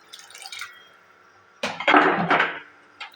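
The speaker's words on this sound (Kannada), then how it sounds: "ಈಗ ಸ್ವಲ್ಪ ನೀರನ್ನ ಆ್ಯಡ್ ಮಾಡ್ಕೊಳ್ತೀನಿ" Water is poured into a pan of egg curry: a faint dribble first, then a louder splashing pour of about a second, ending in a short drip.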